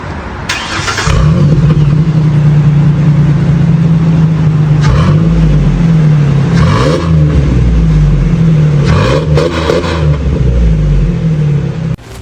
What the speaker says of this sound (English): the Gibson Dual Sport runs a Superflow baffled muffler with no internal packing for aggressive tone and less cabin noise than most competitors.